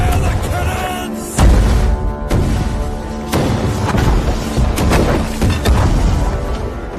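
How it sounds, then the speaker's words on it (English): Several heavy booms and thuds land over a steady loud rumble of battle, dense and close, with scattered crashes between them. "Fire the cannons!"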